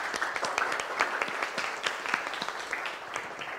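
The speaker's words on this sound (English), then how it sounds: "So just want to thank everyone. A round of applause." Applause from an audience thanking speakers at a talk on a firefly study, many hands clapping in a lively irregular patter with distinct individual claps standing out, moderately close and steady throughout.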